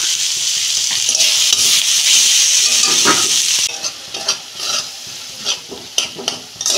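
Ground turmeric, chili powder and cumin sautéing in a hot pan, giving a loud, continuous sizzle with a spatula stirring and scraping through it, then the frying eases into intermittent crackles and scrapes.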